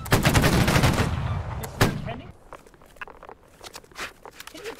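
Musket volley in the video game Holdfast: Nations at War: a loud, dense crackling burst of massed gunfire, another sharp shot near the two-second mark, then scattered, fainter distant shots trailing off.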